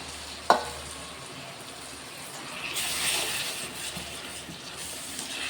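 Green chillies and chopped tomatoes frying in a pan, a sharp clatter of a spoon at the start, then a continuous sizzle that swells louder midway, close and without talking.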